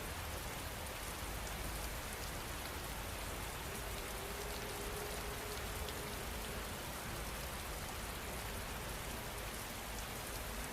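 Steady rain falls on a surface as an even, dense hiss of drops that does not change, with no voices and no thunder.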